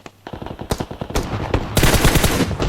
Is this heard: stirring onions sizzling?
no